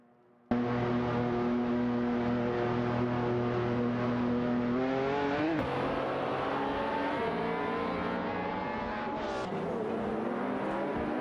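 A Ferrari F60 America and a Lamborghini Asturion racing in a video game, engines kicking in abruptly and holding a loud, sustained drone with rising and falling pitch, a brief high whine near the end.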